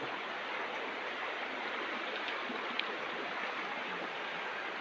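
A river flows steadily nearby, an even, unbroken rushing wash of water with no voices over it.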